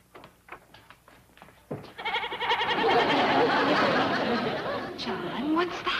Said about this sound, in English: It's a goat, dear.